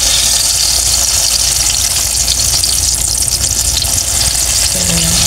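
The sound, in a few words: eggplant frying in oil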